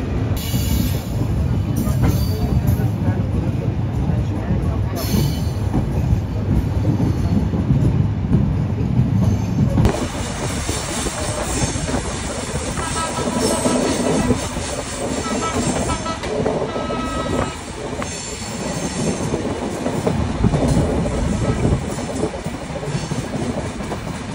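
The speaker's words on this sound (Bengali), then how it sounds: "আমাদের রূপসী বাংলা এক্সপ্রেস ছেড়ে যাচ্ছে।" The Rupashi Bangla Express pulls away from a platform with a continuous loud rumble and rhythmic clatter of wheels over rail joints, building steadily as the carriages roll past close by.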